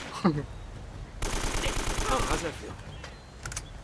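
Rapid gunfire crackles through a firefight in Uncharted: Drake's Fortune as an enemy armed with a shotgun shoots, a dense burst lasting over a second amid game noise, with someone talking around it.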